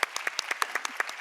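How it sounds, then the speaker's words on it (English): Scattered individual claps at a stage talk event, roughly a dozen crisp close hand claps in quick uneven succession, quiet and brief without any talk. "round of applause."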